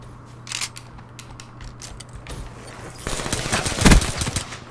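Gunfire from a pistol in the video game Black Ops 3 during a free-for-all Control match, rapid cracking shots and mechanical clatter building louder toward the end, with no talk.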